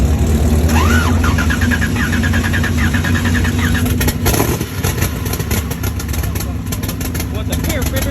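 A twin turbo Chevrolet S10 drag truck engine rumbles loud and close with chirping, fluttering turbo sounds early on, then a sharp burst and a rough, pulsing engine note continuing to the end.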